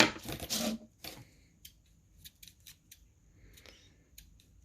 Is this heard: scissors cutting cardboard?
yes